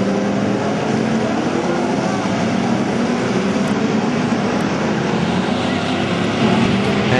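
NASCAR Camping World West race cars roar around the PIR track during a 2009 race, a loud, steady, dense engine drone that never lets up.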